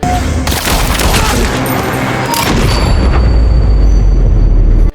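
Gunfire and explosions fill a jungle firefight in the video game Delta Force, where an enemy pickup truck fires a rocket. Dense, loud bursts of shots and heavy booms overlap continuously, then a deep low rumble swells toward the end.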